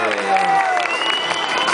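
Loud, continuous crowd applause and cheering at the Torres 2010 hot-air balloon championship, with a voice over the noise and a sustained tone running through it.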